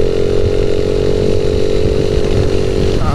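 A Honda Wave motorcycle engine with a misfiring carburetor strains uphill on a wet road, giving a loud, continuous, buzzing drone close by for the whole stretch.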